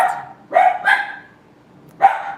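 Dogs bark in a few sharp bursts around a home kitchen where macarons are being made with a mixer, close and fairly loud, with short pauses between barks.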